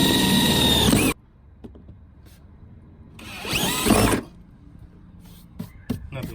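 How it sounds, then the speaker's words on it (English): A power drill whirs loudly for about a second, stops, then bores again in a second burst, piloting holes in a new 2014+ Sierra/Silverado truck body, with faint clicks and handling noises between. "Nothing like drilling a hole in a brand new truck."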